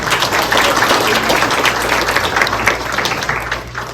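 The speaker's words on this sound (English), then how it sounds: "Let's give them a round of applause." An audience at a school district Hall of Honor induction ceremony applauds the food service staff, loud, close, dense clapping from a crowd in a room, sustained and even for the whole stretch.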